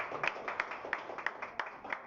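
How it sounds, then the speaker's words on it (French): A small press-conference audience claps in a thin, scattered way, with a few distinct claps ringing out over soft background murmur. "Ça peut s'applaudir quand même."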